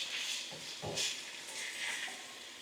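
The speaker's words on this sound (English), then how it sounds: "Cooking down those peppers and onions." Peppers and onions cooking down in a pan for a keto cheesesteak wrap give a soft, steady sizzling hiss that swells slightly at moments, faint and continuous with no voices.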